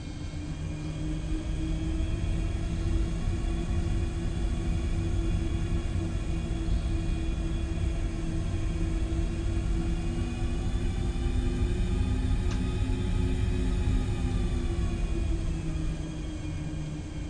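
Steady airliner engine drone and rumble while taxiing on the ground in Microsoft Flight Simulator 2024, a Delta flight departing Salt Lake City, constant and loud throughout with tonal whine above.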